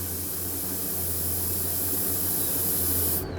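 Yellow paint sprays from a spray booth onto a handmade garfish swim-bait fishing lure, a loud, continuous hiss over a low steady hum that cuts off just before the end.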